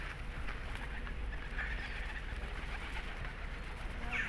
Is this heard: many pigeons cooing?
yes